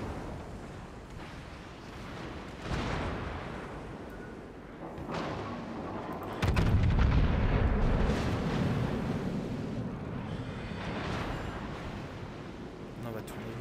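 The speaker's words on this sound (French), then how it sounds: "ils ont mis le bruit des canons du Yamato dessus" Heavy cannon fire from the Yamato battleship in a naval video game, a deep rumbling boom that swells midway and lingers as a broad roar under continuous game noise.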